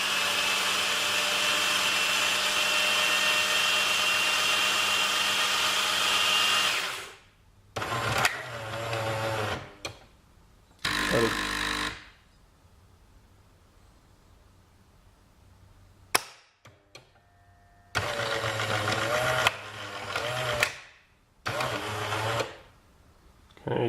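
A CremaBot espresso machine makes an espresso. A long, loud mechanical whir runs first, followed by shorter motor and pump bursts with pauses between them, heard close up without speech.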